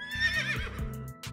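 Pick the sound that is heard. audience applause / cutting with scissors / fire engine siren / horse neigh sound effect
horse neigh sound effect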